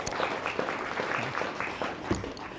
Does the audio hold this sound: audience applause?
yes